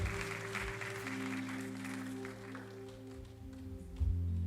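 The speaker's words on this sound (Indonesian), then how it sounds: "Boleh kita kasih tepuk tangan buat mereka as a support as they make their way." A church congregation at an Indonesian online worship service claps quietly, the applause a soft wash beneath sustained music tones in the room.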